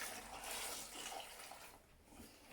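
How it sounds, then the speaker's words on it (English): Water from a jug poured down a hole dug for lure fishing, a steady gushing splash that fades over two seconds, close and quiet with no talking. "Then you get a nice jug of water like this and pour it down the hole."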